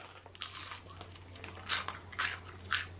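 Someone bites into and chews cold fried calamari with a crunchy coating, giving a few short, quiet, close crunches spaced through a faint background hum.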